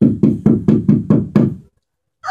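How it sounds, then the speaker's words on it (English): Seven firm, evenly spaced knocks land on a palace door in quick succession, loud and close, followed by a short silence before a voice begins. "she knocked on the door of Shlomo HaMelech's palace"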